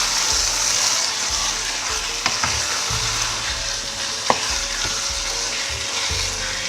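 Seasoning being stirred into egusi soup with stockfish and bitter leaf in a pot, a steady low scraping and bubbling sizzle with a couple of sharp spoon knocks against the pot.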